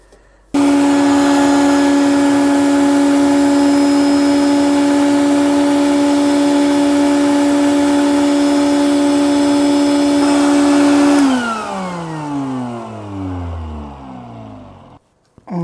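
A vacuum cleaner sucks debris out of a clogged stove pipe, a loud steady motor whine starting abruptly and droning on, then its pitch slides downward and wavers as the airflow changes near the end.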